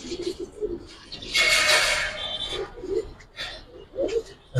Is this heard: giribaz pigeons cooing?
yes